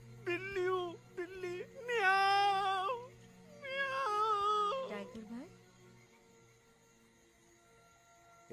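A voice imitates a cat, giving a few drawn-out, wavering meows close up, then trailing off into quiet.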